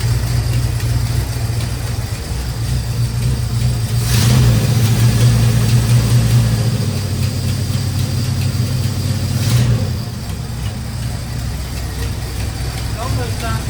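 A 1972 Dodge Charger V8 runs after a new fuel pump install, a steady loud idle with a rise in revs midway before settling back down, with voices talking over it.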